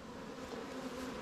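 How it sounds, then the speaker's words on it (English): Honey bees from a swarm in a Langstroth or Warre hive buzz in a steady, dense drone, faint and continuous over a brief moment. "So there's a swarm"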